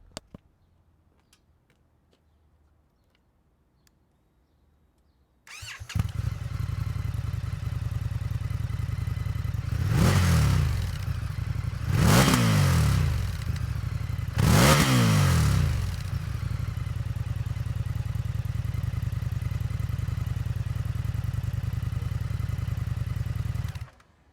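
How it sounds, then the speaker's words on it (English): A 2019 Indian FTR 1200 motorcycle starts up after a quiet moment and idles with a steady, loud rumble, then revs sharply three times before settling back to idle. "We're here with the 2019 Indian FTR 1200 for the sound check."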